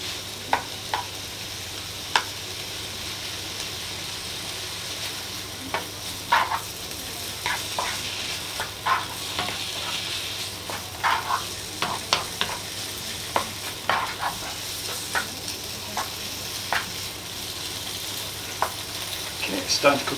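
Bacon and mushrooms fry in a pan for an omelette, giving a steady close sizzle broken by frequent sharp pops and crackles as the pieces are stirred around.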